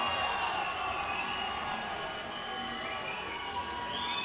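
An MMA event crowd roars in steady support for fighter Mike Wilkins, a dense, unbroken wash of cheering and noise from a large audience, heard alone without close talk.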